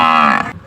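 A buffalo calf moos once, loud and close, a single drawn-out low call that tapers off.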